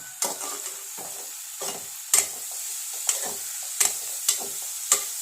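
A ladle stirs curry in a pot, giving about eight separate, irregular scraping strokes that each end in a sharp metallic clink, close and distinct against near silence between them.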